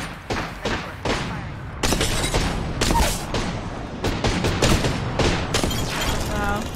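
Loud, rapid shotgun blasts in the Apex Legends video game come close together in bursts, with booming impacts and clattering echoes amid busy combat noise.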